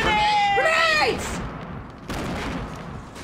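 A grenade goes off in a Fortnite match, a few sharp bursts landing after a short stretch of tonal game sounds, with players talking over the action.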